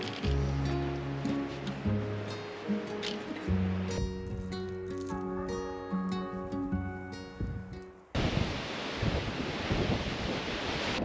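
Gusting wind buffets the microphone on a mountain hike among shrinking trees, a loud, rough roar that rises and falls, then turns into a steady hissing rush in the last few seconds.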